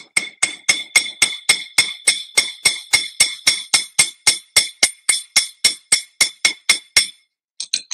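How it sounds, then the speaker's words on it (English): Head pins being hammered flat into small rivet heads for bead jewelry, a fast run of about two dozen sharp metallic taps at an even, steady rhythm, close and clear, followed by a short pause and a few quicker light taps. "how to do hammer them heads a little bit in case you need a rivet head like that"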